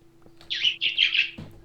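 A sparrow in the video game Minecraft gives a quick run of four bright, high chirps, close and clear against a low steady hum.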